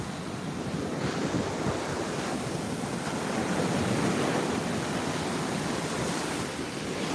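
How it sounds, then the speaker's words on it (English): Ocean waves wash and break steadily at Juno Beach in a continuous surging roar, with some wind buffeting the microphone. "the waves are not huge, but they're nice"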